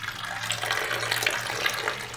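Water pours steadily from a bottle into a measuring cup, a continuous close splashing trickle with no voices over it.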